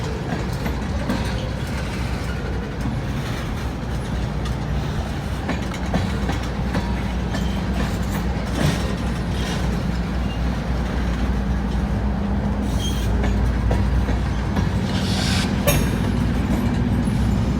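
A freight train with a DPU locomotive rolls past in the evening low light, a continuous loud rumble with rhythmic wheel clatter and rail noise from close by.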